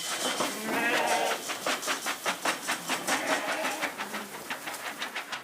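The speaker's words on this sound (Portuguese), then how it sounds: "O rebanho tem 30 ovelhas e um cordeiro." A flock of sheep bleats in a quick run of repeated, wavering calls, some overlapping, fairly close and loud at the start, then settling into a steady pulsing chorus.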